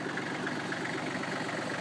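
A low-hour Kubota tractor backhoe engine, just over 2,000 hours, idles at a steady, even rumble, close and continuous with no voices.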